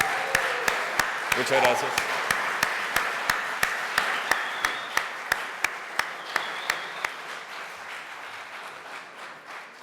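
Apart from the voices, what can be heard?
audience applause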